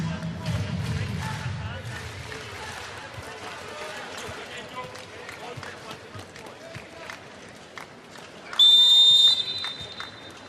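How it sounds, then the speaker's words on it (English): Referee's whistle at a 2016 FIVB Volleyball World League semifinal, Italy vs Serbia, gives one loud sustained shrill blast near the end, rising over steady arena crowd noise and ball thumps. "the referee blew his whistle"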